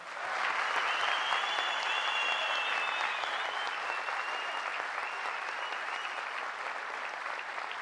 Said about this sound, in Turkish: en büyük alkışı bir de sizlere yapıyoruz buradan